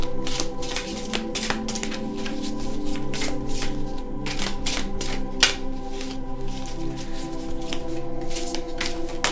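Tarot cards being shuffled by hand, a close, loud run of rapid riffling bursts and flicks repeating over several seconds.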